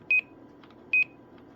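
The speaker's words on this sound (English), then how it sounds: "So I did put a Roger beep in it. It's a little 2510 beep." A short two-tone Roger beep from a 2510 beep board fitted in a K-PO DX 5000+ CB radio sounds twice, each quick high double chirp followed by faint clicks, over a low hiss.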